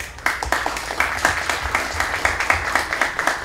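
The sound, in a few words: audience applause at fundraising event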